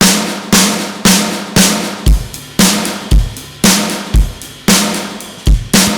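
A punchy drum groove with sharp, bright snare hits from a triggered snare sample and booming kicks in a steady rhythm, loud and close with no voices.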